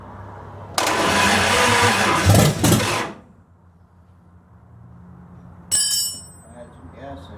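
A 1929 Chrysler 360 engine with headers and manifold leaks cranks loudly for about two seconds, catches, then drops to a low, rough idle, with a short metallic ring partway through.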